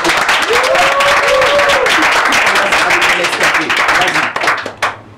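Applause and cheering from a radio studio audience at Radio JAM, loud and dense with some whoops, tapering off near the end.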